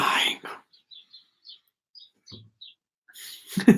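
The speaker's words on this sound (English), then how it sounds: "I've literally just got like 30 sparrows in the garden" Small sparrows chirp in a garden, a scatter of brief high tweets spread across a quiet stretch, faint and slightly distant, with a voice speaking at the start and again at the end.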